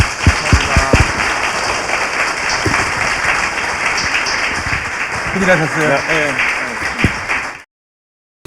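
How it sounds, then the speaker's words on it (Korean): Studio audience applause on a Korean talk show: steady clapping throughout, mixed with talk and a short spoken line over it, ending abruptly in silence. "박수 부탁드립니다"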